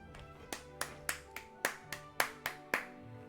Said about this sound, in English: Start clapping before the end of the show.